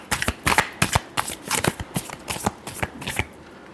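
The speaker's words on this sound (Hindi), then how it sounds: "last shuffle" Tarot cards being shuffled by hand close up, a rapid, uneven series of crisp riffling slaps and flicks lasting a few seconds with no talking.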